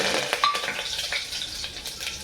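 Cumin seeds and curry leaves sizzle and crackle in hot oil, with a faint metallic clink of a utensil near the start; the frying is close and moderately quiet, with no talk.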